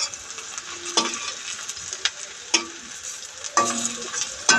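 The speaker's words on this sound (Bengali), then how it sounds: "এখানে মচমচ করে ভাজা হয়ে যাক" Khesari lentil fritters crackle and fry in hot oil with a constant bright sizzle, punctuated by sharp scrapes and taps of a spatula every second or so, close up with no voices.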